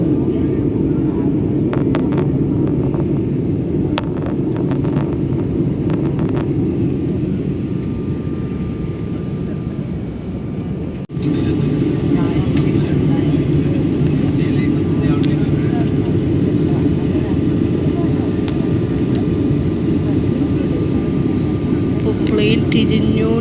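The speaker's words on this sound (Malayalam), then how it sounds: "പ്ലെയിൻ തിരിഞ്ഞുകൊണ്ടിരിക്കുകയാണ്." An Air Asia airliner turns on the ground after landing on a flight to Delhi. A steady, loud engine roar runs unbroken throughout, dipping briefly midway before resuming.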